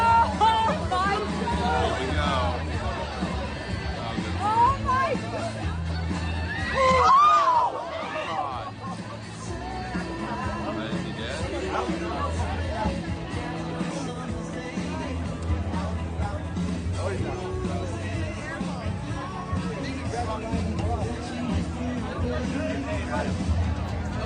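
Dense crowd hubbub at a tailgate party, many voices chattering and murmuring together at steady loudness, with a brief swell and sudden dip partway through before the babble resumes.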